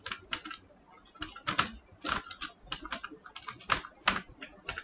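Code is typed on a computer keyboard in quick, uneven bursts of close clicking keystrokes, with brief pauses between runs and no voices over it.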